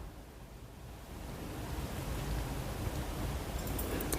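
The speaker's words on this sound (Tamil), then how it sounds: "அதை சேர்த்துக்குங்க. அது நல்லா பொரியட்டும்." Six or seven dried red chillies fry in hot oil for a kuzhi paniyaram kara chutney, a dense, steady hiss that swells louder over a few seconds, with no voices.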